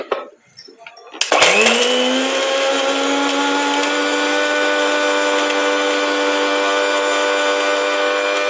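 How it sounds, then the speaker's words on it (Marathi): A mixer grinder jar of whole spices and roasted coconut bursts into a loud, close whirring after a few seconds of quiet clatter, its motor settling into a steady high-pitched drone that runs to the end. "आता आपल्याला खोबऱ्यासोबत हे खडे मसाले बारीक करायचे आहेत."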